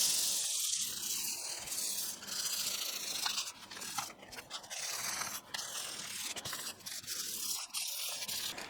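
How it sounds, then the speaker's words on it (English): A guitar body hand-sanded with 320 grit sandpaper, a soft, close, rhythmic scratchy rubbing in repeated strokes that varies in intensity throughout. "I'm going to go at it with a bit of 320."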